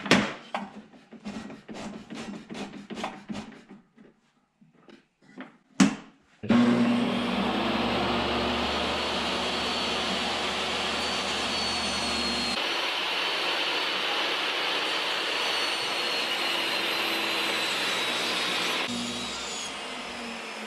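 A power saw rips wood boards down to 1 3/4 inch wide for a workshop storage rack, a loud sustained whine and rasp after some preceding knocks and handling sounds, then winding down near the end.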